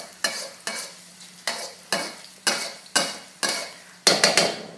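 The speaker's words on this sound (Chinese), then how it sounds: "把这个姜跟小辣椒先爆香" Ginger and small chili peppers stir-fried in lard in a wok, with seven sharp rhythmic scraping strokes of a spatula over a steady sizzle, close and loud.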